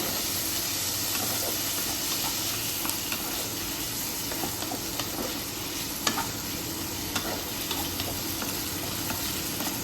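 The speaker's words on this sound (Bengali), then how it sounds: "টমেটোটা দিয়ে ভালো করে একটু নাড়িয়ে নেব।" Chopped tomato fries in a pan while being stirred, a loud, steady sizzle and hiss with occasional scraping clicks throughout.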